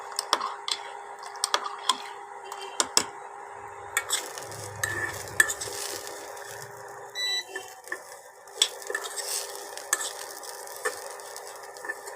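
Vermicelli being stirred in a pan for a milk pudding, irregular scraping clicks and taps of the utensil against the pan over a soft, low frying sizzle, close and moderately loud.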